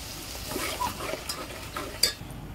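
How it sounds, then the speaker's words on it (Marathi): Water goes into a frying spice paste for Maharashtrian patodi curry, giving a close sizzle with scraping stir strokes and a sharp metallic clink near the end. "आणि आता त्यात पाणी घालून घेते."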